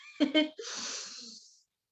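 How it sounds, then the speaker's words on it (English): A long, breathy inhalation after a short burst of voice, drawn in steadily for about a second and fading away, close and fairly soft, as in a group breathing exercise. "Let's take a deep breath in."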